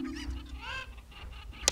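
Cucco chickens from the video game The Legend of Zelda: Ocarina of Time let out a couple of short, honking squawks, fairly faint over a quiet game background.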